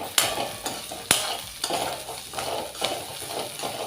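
Beans fry in a pan with green chillies, ginger and garlic paste, a close crackling sizzle punctuated by several sharp utensil knocks and stirring scrapes against the pan.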